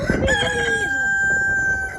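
A rooster crows loudly and close by, one drawn-out call that fills the whole moment with little else around it.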